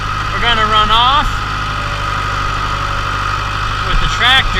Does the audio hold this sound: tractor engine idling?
yes